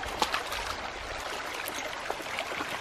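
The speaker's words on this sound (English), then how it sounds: "Ooh, that's the water" Stream water in Union Gorge flows with a soft, continuous trickle and gurgle, fairly quiet and close by, with small splashy accents and no talking.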